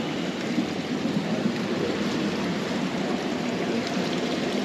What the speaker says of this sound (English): As is usual, bit of water trickling,